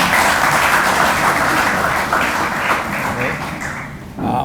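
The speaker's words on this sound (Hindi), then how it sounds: "सर, मेरे बाद जोरदार तालियां हरीश जी के लिए।" Applause from the audience at an award ceremony in India, loud dense clapping sustained for a few seconds before tapering off, with a voice beginning near the end.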